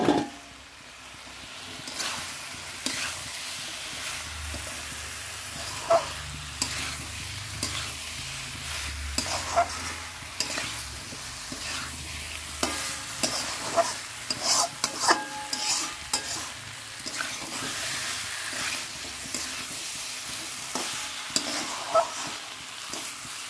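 An already-fried egg goes into a hot pan of frying food and gets stirred, with a steady sizzle under repeated scraping and clinking of a utensil against the metal, close and continuous, no talking.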